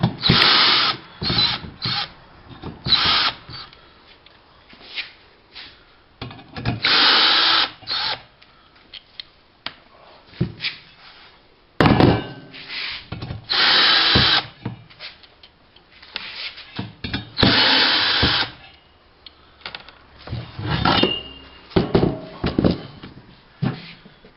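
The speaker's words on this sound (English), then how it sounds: "You back your screws out." A power drill backs screws out of 1/8-inch heavy-duty steel brackets on a mailbox swing post, sounding in loud repeated bursts of whirring with short pauses and clicks between them.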